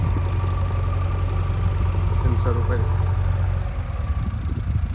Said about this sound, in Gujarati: ટ્રેક્ટર લેઝર લેવલ કરે.